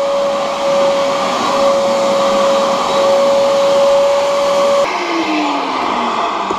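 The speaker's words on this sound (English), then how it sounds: "So that sound means the vacuum's full" A vacuum cleaner that has filled up with water from a flooded basement runs with a loud steady whine, then the pitch drops and shifts as the motor strains, with no talk over it.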